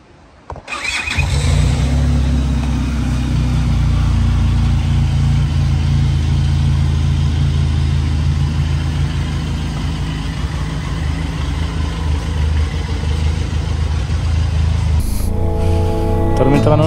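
A Benelli motorcycle started from cold, firing up loudly after a brief crank and settling into a steady, close idle that continues for over ten seconds before a short blip near the end.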